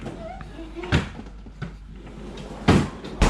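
A freezer drawer in a home kitchen thuds and clacks a few times as it is opened and shut, close and moderately loud, amid kitchen background noise.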